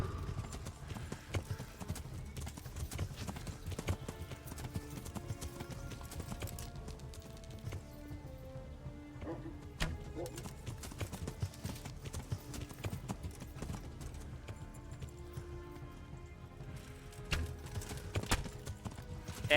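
Horse hooves clip-clop in a steady, rapid rhythm in the video game Kingdom Come Deliverance, a continuous faint patter of hoofbeats running throughout without speech.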